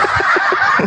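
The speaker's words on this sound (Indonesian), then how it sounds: "ada suara ayam lagi." Rapid honking calls from a bird in a chicken-like voice, several short nasal squawks in quick succession, loud and close.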